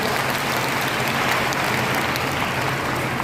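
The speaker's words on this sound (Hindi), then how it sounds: "आप सभी का मनोबल बढ़ाने के लिए उनके नाम से भी तालियां इसी जोर से हो जाए।" A seated audience at a stage ceremony in India applauds in steady, dense clapping that stays loud and even throughout, with no voices over it.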